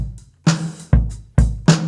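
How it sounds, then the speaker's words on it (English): Punchy drum loop built from a Native Instruments vintage drum sample pack, alternating deep kicks and crisp snares in a steady beat, close and clean with no other sound. "I've created a track with the Native Instruments vintage drum sample pack"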